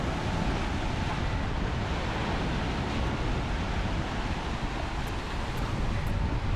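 Big Atlantic ocean waves and 30-knot winds roar continuously around a boat surfing down swells, a loud, steady broadband rush of wind buffeting and water with no pauses.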